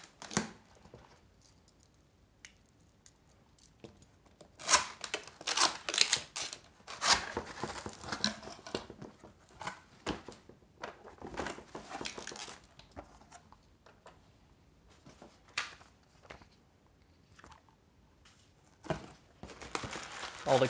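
Cardboard and plastic packaging of an AOC C24G1 monitor being opened, with bursts of tearing, crinkling and rustling close by, scattered handling clatter, and quiet stretches between.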